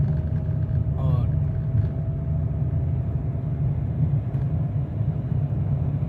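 Inside a car in third gear during a driving lesson, a steady low engine drone and road rumble hold throughout as it gathers speed toward 30, under a voice talking.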